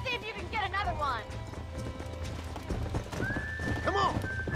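A horse in the video game Red Dead Redemption clip-clops at a run and lets out whinnying neighs, with a steady game soundscape underneath.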